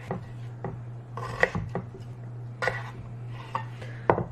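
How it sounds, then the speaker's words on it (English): A knife cuts vegetables into fry shapes on a board, giving several sharp, close chops at irregular intervals over a quiet low hum. "we're just gonna cut these into fry shapes"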